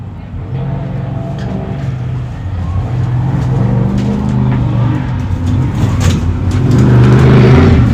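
An off-road competition race truck at the High Desert 100 desert race in Powell, Wyoming, its engine roaring at a distance and swelling gradually louder as it runs past, under faint background chatter.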